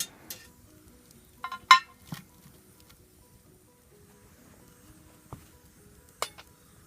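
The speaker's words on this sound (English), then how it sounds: "Just want to scoot some of these coals over underneath my Dutch oven." Hot coals being scooted underneath a Dutch oven at a campfire, a few sparse metallic clinks and short scrapes separated by near silence, quiet and close.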